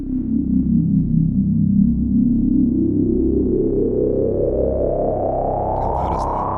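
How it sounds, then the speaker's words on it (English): Synthesizer tone played from the buttons of a Zoia modular effects pedal: a loud, sustained sweeping pitch that glides steadily upward for several seconds, sonar-like and smooth, with no talking. "It is a synthesizer."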